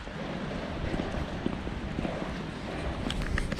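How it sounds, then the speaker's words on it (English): Wind gusts in an exposed spot in Magaluf during bad weather, a steady roaring rush that buffets the microphone, with a few faint knocks and higher rattles toward the end. "you can feel that wind blowing"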